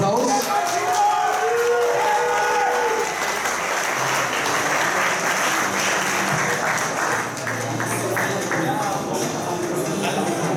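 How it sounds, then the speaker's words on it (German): Sustained audience applause fills a bodybuilding championship hall, steady and dense for the full stretch, with an announcer's amplified voice carrying over it at the start. "Euer Applaus!"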